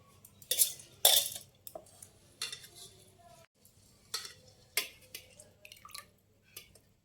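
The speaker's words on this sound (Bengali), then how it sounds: "এবারে জল থেকে ছেঁকে মিক্সি জারে তুলে নেব" Soaked regular rice being strained out of its water and tipped into a mixer jar, with light clinks, rattles and wet drips in short, scattered bursts, close by and fairly faint.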